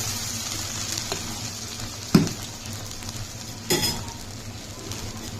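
Onion, dried red chili, black cumin and five-spice seeds frying together in oil in a pan for a bitter gourd and dried fish dish, a steady low sizzle with two brief clatters of stirring.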